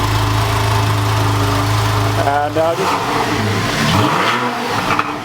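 A 2013 Porsche 911 (991) Carrera S with a 430 hp Exclusive Powerkit idles loudly, then revs in several rising and falling sweeps close by, with a voice speaking briefly over the engine.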